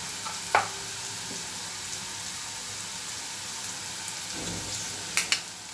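Bitter gourd curry with garam masala and red chilli powder is stirred in a hot pan, a steady sizzle of frying with occasional soft scrapes of the spoon against the pan.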